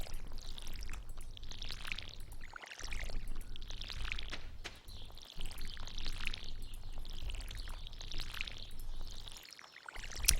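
Watering crops in Stardew Valley: a soft splashing pour repeats in several distinct bursts, each separated by a brief gap, fairly quiet and close with no voices.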